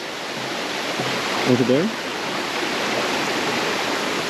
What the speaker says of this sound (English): And there's another waterfall there, a very big one,